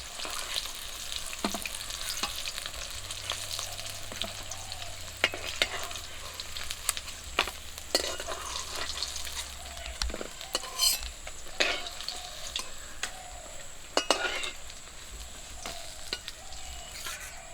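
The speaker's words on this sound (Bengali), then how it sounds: "মাছগুলো ভাজা হয়ে গেছে" Pieces of rui fish frying in hot oil in a pan, a steady sizzle throughout with scattered stirring and spatula scrapes, fairly close and without talk.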